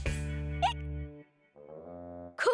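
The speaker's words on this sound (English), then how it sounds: "Cuquin's giving you the hiccups." An animated cartoon character hiccups twice, with sharp squeaky bursts set against sustained musical tones from the show's soundtrack.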